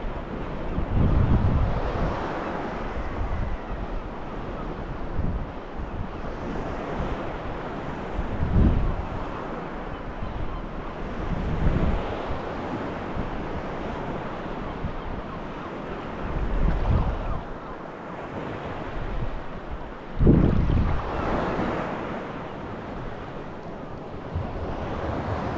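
Waves wash onto a beach at Laxey as the tide floods in, with repeated surges of surf swelling and receding amid strong wind buffeting the microphone.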